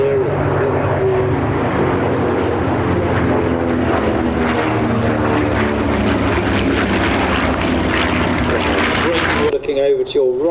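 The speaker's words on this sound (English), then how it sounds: "in the lead now we have the P-38 pulling up into a 3-ship loop with that P-51 on its left wing and the Corsair on the right" Vintage propeller warbirds, a P-38, a P-51 and a Corsair, fly in formation at an airshow, their engines droning loudly and continuously while an announcer talks over them.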